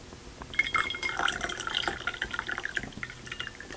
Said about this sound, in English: let's pour the hot water into the cold water and see what we've got here